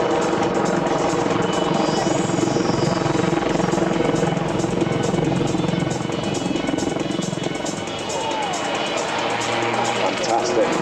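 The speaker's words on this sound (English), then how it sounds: "you'll just see the aircraft flip over its tail and fly out to the right" Westland Lynx helicopter of the Blue Eagles display team flying a back flip at an airshow, a loud steady rotor and turbine roar that fills the whole clip, with a commentator's voice over the public address.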